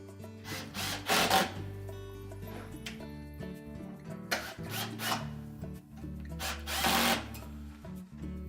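A power drill drives screws into the mounting bracket of a Whirlpool range's cooling blower kit, several loud whirring bursts rising and stopping with brief pauses between, close up.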